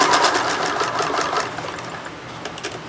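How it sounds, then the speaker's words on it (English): A sewing machine stitches around a feather-shaped applique for a quilt, a continuous close whir of rapid needle strokes that eases slightly in the second half, with no talking. "So I'm going to sew all around and clip it out and then turn it"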